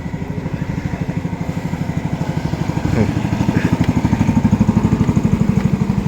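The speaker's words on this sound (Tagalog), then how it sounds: "Ah, di motor naman itong kabila." A motorcycle engine running steadily nearby with a loud, rapid pulsing putter that grows slightly stronger as it goes on.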